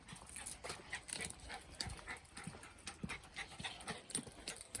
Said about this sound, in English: the other dogs are not happy they're not joining, as you obviously can hear